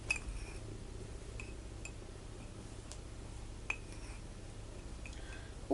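A spoon stirring blueberry pudding batter in a mug, sparse faint clinks and taps of metal against ceramic over a quiet background.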